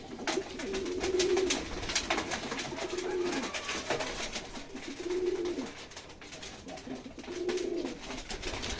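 Pigeons coo in repeated low, rolling phrases while being fed on a foggy winter morning, the calls near and steady over a soft outdoor background.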